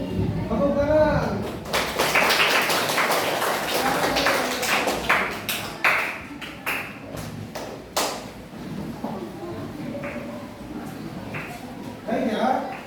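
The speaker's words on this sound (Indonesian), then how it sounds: "Tepuk tangan." Children in a classroom clap their hands in a loose burst of sharp, irregular claps that comes in several waves. Someone talks over the clapping.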